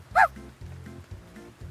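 A puppy in Hanako's Flower Shop lets out a short, bright yip and then softer whimpering barks, close and clear over a soft game music bed.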